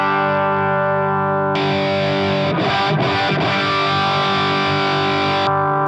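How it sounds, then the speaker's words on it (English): A sustained, heavily distorted electric guitar chord rings out loud through an amp, with a brief choppy burst in the middle before it holds again. "this is the basic sound that I'm running with this amp"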